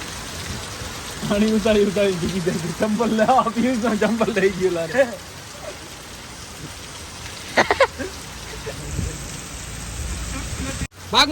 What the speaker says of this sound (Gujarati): ફૂલ વરસાદ ચાલુ થઈ ગયો અમે ફસાઈ ગયા